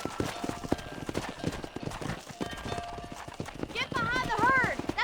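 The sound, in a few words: horse galloping and whinnying in Red Dead Redemption video game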